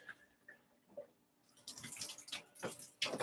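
Water pours and splashes into a fish tank, a quiet, uneven gush with scattered drips that grows fuller toward the end.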